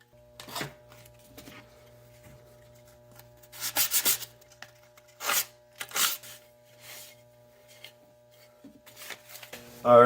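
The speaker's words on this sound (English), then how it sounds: "I could probably do that with just a piece of sandpaper. And I'll just sand down where those bridges were." Hand sanding the cut wooden edges of a carved coin with a piece of sandpaper: a few short, soft rubbing strokes in separate bursts with quiet pauses between, close and fairly faint.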